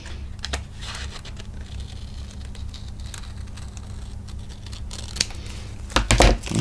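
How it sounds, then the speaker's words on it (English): Scissors snipping through paper at close range, a steady run of small crisp cuts with a couple of sharper, louder snips near the end. "If you don't have a blade, don't fret, just do it with your scissors."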